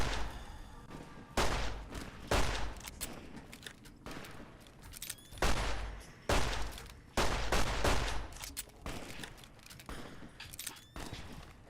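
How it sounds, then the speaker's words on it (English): Rapid bursts of gunfire from the video game Fallout New Vegas, loud and close, arriving in repeated clusters of shots with short pauses between them and no talking. "It is very hard to shoot in this game."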